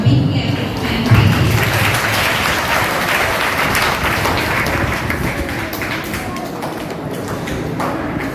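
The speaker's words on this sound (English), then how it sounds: "Have a big clap." An audience claps steadily at a school storytelling competition, a dense sustained round of applause with some louder taps near the start, continuing evenly throughout.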